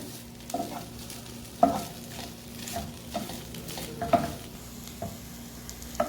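Chicken being stir-fried in a pan for homemade shawarma, a soft frying sizzle broken by intermittent scraping and clinking of a spatula, fairly quiet and close, with no talking.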